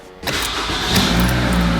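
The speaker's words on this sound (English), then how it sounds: "You go to start the car, it runs for 2 seconds, car shuts off." Toyota RAV4 engine cranking and catching after a quiet moment, then running steadily at a close, loud idle with a slight rise in revs.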